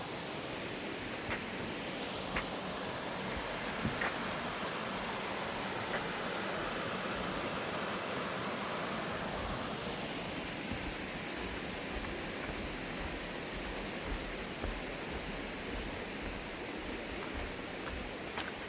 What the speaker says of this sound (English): Literally is a deep creek and a clear creek.